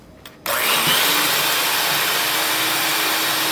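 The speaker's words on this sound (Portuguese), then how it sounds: "Eu vou bater com a minha batedeira de mão mesmo" An electric hand mixer switches on after a brief pause and whirs loudly and steadily as it beats passion fruit cake batter, a constant high motor whine close by with no speech.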